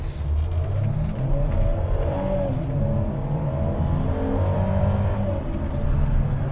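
A 2018 Mercedes C200 EQ Boost with a nine-speed gearbox pulls away from a standstill, its engine drone rising steadily and shifting pitch as it accelerates, heard from inside the cabin, steady and moderately loud.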